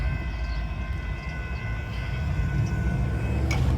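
A local freight train hauled by GE locomotives approaches with a steady low diesel rumble and rolling rail noise, a sustained horn tone running above it and building slightly louder toward the end.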